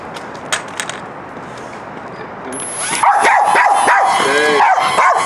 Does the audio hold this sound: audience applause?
no